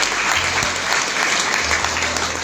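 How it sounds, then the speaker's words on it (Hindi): Steady applause from a seated audience at a network marketing seminar, dense and even clapping that fills the room for a couple of seconds with no voices over it. "सबके लिए ताली बजाएं"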